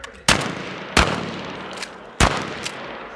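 Shotgun rounds fired on command during a tactical shotgun class at a firearms range, three sharp loud blasts spaced about a second apart, each with a ringing decay and faint distant echoes.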